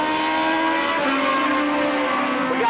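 Race cars roaring together around Tosa Raceway Park during a race, a loud sustained engine drone with shifting harmonic tones as the pack runs nose to tail, no voices.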